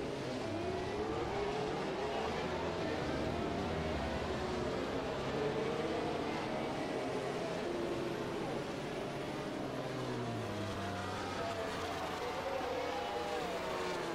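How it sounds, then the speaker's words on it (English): Race cars roll off the grid on a formation lap at the Brazil round of a racing game championship, a steady dense engine drone from a full field of 29 cars, continuous and fairly loud without sharp revs. "29 drivers off the grid, starting their formation lap."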